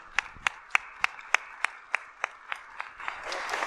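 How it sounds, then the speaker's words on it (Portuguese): Audience applause welcoming someone speaker to a lecture on faith, starting as distinct, evenly spaced claps that thicken into a denser patter of hands near the end, moderately loud in a hall. "Uma salva de palmas mesmo."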